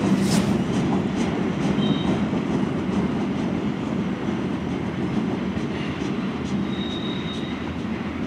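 CN mixed freight train westbound in Port Huron, Michigan, led by IC locomotive 2702, a steady low rumble of rolling cars and wheels with faint high squeals, continuous and moderately near, no talk.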